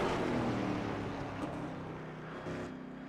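A race car engine drones steadily in a sim racing game at Thompson Speedway, with a few brief throttle lifts dipping and rising the tone, heard alone at moderate level.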